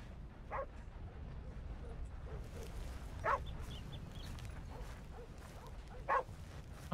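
In the video game Red Dead Redemption 2, a dog barks three times, spaced a few seconds apart, over a low steady background rumble; the barks sound moderately distant.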